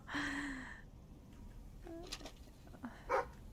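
A dog in the Fable video game gives a short whining bark near the start, followed by quieter game sounds and faint yelps later, all fairly soft.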